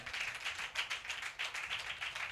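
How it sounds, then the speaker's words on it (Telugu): A church congregation claps in a fast, steady rhythm, quiet and somewhat distant, with no voices over it. "కొట్టు చప్పట్లు గట్టిగా"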